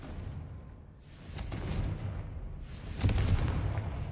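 Confringo fire spell cast in Hogwarts Legacy: two booming, fiery bursts a couple of seconds apart, each a broad roaring whoosh with crackling rumble, fairly close and loud.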